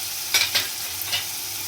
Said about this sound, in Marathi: त्याला सॉटे तर कर